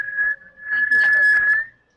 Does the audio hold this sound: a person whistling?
yes